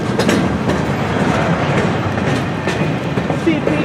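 Freight cars on a train led by NS 4055 roll past nearby with loud, continuous rumble and rhythmic clickety-clack of wheels over rail joints, steady throughout with no voices standing out.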